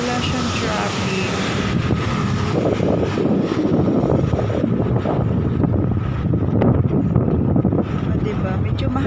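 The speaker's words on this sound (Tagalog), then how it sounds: "Medyo mahangin siya dito guys" Strong wind buffets the microphone outdoors at Home Square in Shatin, Hong Kong, a steady loud roar that runs throughout. Someone talks over it.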